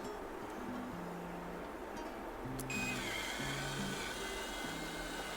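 A hair dryer blows steadily at a wedding-guest makeup session, a constant broadband rush with faint background music tones underneath, no talk.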